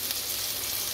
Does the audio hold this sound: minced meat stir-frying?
yes